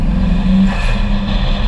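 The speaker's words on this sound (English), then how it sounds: "You can really hear like the spool of the turbo." A modified Renault Megane R26 fitted with a dump valve and box cut, its turbo spooling over a steady close engine hum, brief and continuous with no speech.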